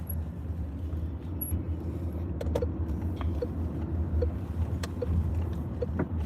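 Car interior while driving, with a steady low engine rumble and road noise and a few faint clicks and ticks on top, no talking.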